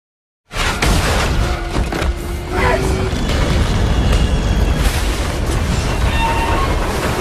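Loud, dense booming and crackling bursts erupt suddenly and continue as a heavy, chaotic roar of gunfire and missile explosions hitting an aircraft.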